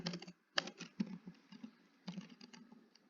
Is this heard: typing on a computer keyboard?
yes